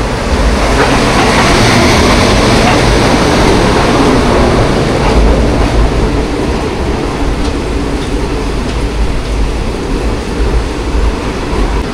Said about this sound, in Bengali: সঙ্গে সঙ্গে কিন্তু ট্রেন সামনে থেকে আসছে।